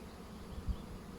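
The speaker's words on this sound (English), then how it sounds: "A lot of bees flying around, makes a bit of a brrr." A small swarm of honeybees flying around a garden bush makes a soft, steady, low buzzing drone, faint and continuous with a brief slightly louder swell, and no voices.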